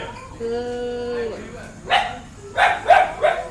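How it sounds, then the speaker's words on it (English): Dog barking in several sharp, close barks in quick succession after a whining, whimpering tone, fairly loud over a quiet indoor background. "We don't bark like that."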